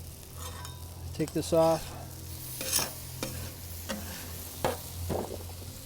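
Pupusas cooking on a Cuisinart 360 XL griddle give a steady, close sizzle, joined by a few clanks of a utensil and a short spoken remark.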